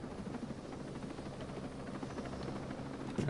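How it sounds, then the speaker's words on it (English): A helicopter in Ghost Recon Breakpoint flies with a continuous, loud rotor drone and engine whine that hold steady and swell slightly at the end, with no talking. "This helicopter's not quiet."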